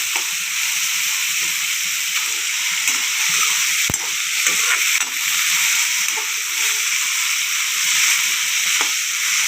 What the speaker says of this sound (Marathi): त्याच्यानंतर टोमॅटो तो घालून तो घ्या व्यवस्थित परतून घ्या